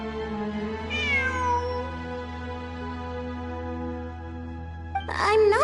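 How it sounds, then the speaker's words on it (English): A cat meows in the video game Genshin Impact, one clear drawn-out meow followed by a second sharper meow at the end, over a steady low background hum. "It really is a cat."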